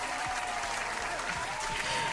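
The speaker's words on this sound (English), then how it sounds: "I want you guys to give her a warm round of applause." Warm applause from a studio audience welcoming a guest onto a hip hop talk show, a steady dense patter of clapping filling the room with faint voices mixed in.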